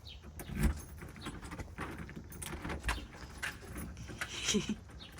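Keys jangling while someone searches for a key, a few metallic rattling bursts scattered over several seconds, fairly quiet and close, with faint background noise.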